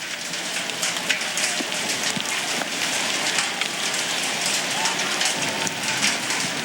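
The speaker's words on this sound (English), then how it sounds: "You can hear the hail." Hail pelts down at the Surfers Paradise street circuit during a CART Indy race, a dense, steady hiss of pattering ice across the whole stretch, with broadcast commentary voices running underneath.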